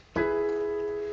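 A single three-note chord struck on a piano, the notes sounding together and ringing out cleanly as they slowly fade.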